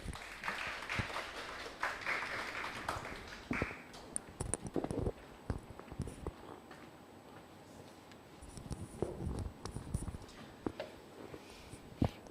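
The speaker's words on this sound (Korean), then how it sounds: "이현진 평가사님을 큰 박수로 모시겠습니다." An audience at a Korean law academy study-group information session gives a speaker a welcome of applause. It starts as a scattered round of clapping in a hall, thins out into sparse individual claps, and then swells again briefly.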